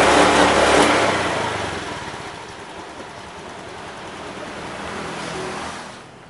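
Motorcycle engine running with a throttle body propped open by a hose wedge, faulty so it will not rev fully; a loud rough burst eases to a steadier, weaker running sound before fading out, with no talk.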